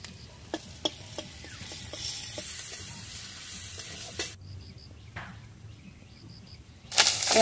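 Garlic frying in a pan for a village-style chicken kosha curry, a steady soft sizzle with occasional stirring clicks and taps, fairly close and alone without talk.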